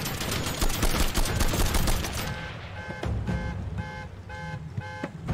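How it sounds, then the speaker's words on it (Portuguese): Dense, rapid gunfire rattles from the zombie-survival video game Nobody's Left for about two seconds. It then gives way to a repeating electronic beeping pattern over a continuing low rumble. "As munição voando."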